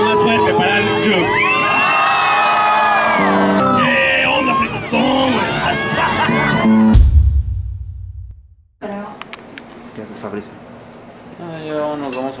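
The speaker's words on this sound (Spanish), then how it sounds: "un aplauso más fuerte para Jux." A crowd at a YouTuber meetup cheering, whooping and shouting with children's voices mixed in, loud and sustained, then a brief drop before shouts and talk resume.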